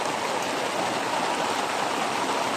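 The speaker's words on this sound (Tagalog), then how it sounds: "Mas ulan, men." Heavy rain pours down on a campsite, a dense, steady hiss of water that holds an even, loud level throughout with no voices.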